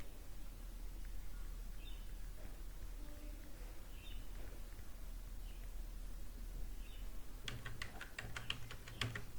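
A quick burst of clicks on a computer keyboard as a one-time password is typed, coming near the end after a quiet stretch of low hum.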